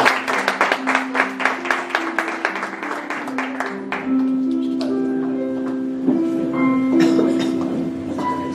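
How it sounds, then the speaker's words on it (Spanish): Clapping from the audience at an academic law conference, a run of sharp, fairly regular claps that soon blends into a steady wash of applause with a few tonal sounds and murmurs underneath. "un fuerte aplauso para ella, por favor."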